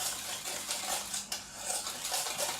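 A utensil whisking and stirring a cream mixture in a bowl for an apple tart, a steady wet scraping and swishing that repeats in quick strokes, close and fairly quiet.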